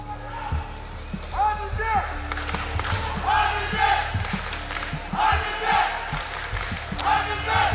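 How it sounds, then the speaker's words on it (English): A boxing arena crowd chants the boxer's first name, Әділбек, in repeated rising, sing-song waves. The chanting is loud and roomy, with commentary talk underneath and scattered bangs and claps throughout. "Әділбек is the cheer from the crowd"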